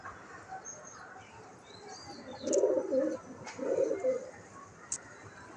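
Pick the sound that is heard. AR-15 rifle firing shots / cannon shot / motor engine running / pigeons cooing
pigeons cooing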